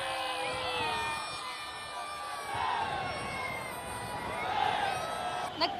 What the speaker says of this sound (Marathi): नरिमन पॉइंट परिसरातून सीमा प्रचंड अशा प्रकारचा जनसमुदाय आपल्याला दृश्यांमध्ये दिसतोय गर्दी प्रचंड वाढताना दिसते